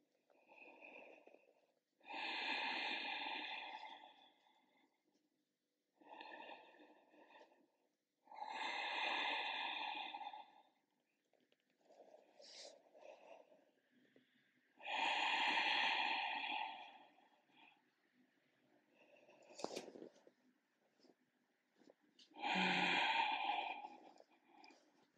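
Slow, deep breathing during a short yoga practice, with long drawn inhales and exhales repeating in a steady cycle, close and soft, separated by quiet pauses.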